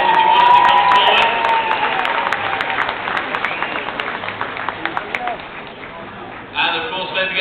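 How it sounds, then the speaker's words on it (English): An indoor convention audience applauding as actor Paul Barber comes on stage, a steady patter of many hands clapping, fairly close, with speech over it and a brief rise in cheering near the end. "Let's give a round of applause if you want to come forward."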